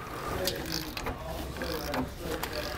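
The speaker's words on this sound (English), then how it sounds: "We're going to loosen these all up." A ratchet clicks while loosening U-bolt nuts on a 2015 Ford F-53 chassis. The mechanical clicking is irregular and sits under steady background noise.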